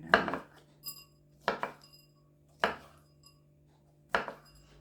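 A knife chops a tomato into medium pieces on a board for a spiced pepper omelette: five crisp, close chops land at a slow, even pace, with quiet between them and no talking.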